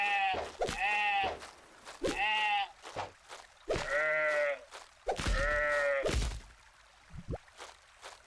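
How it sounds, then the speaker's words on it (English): Sheep in a dark fantasy survival video game bleat repeatedly, four clear drawn-out bleats in a row with short gaps between them, close and distinct, followed by a soft thunk. "I feel bad for hitting the sheep"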